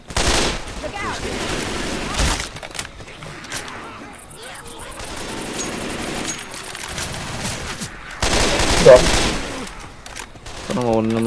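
Gunfire in the zombie shooter Left 4 Dead: loud bursts of rapid automatic shots and single blasts recur through the clip, with players talking over the shooting.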